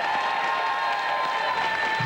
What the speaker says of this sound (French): On applaudit bien fort Picorette.